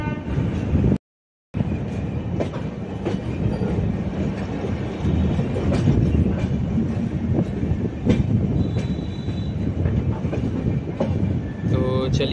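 An SMVT Bengaluru–Kamakhya AC Express passenger train runs steadily, heard from inside a coach just behind the locomotive, with continuous loud rumble and wheel clatter, faint horn-like tones and brief occasional voices.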